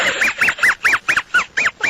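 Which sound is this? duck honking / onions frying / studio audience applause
duck honking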